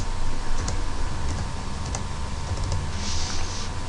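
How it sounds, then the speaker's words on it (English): Rapid clicking keystrokes on a computer keyboard while entering a completed date into job management software, steady close tapping with a few louder strokes, no voices. "We can type in the completed date."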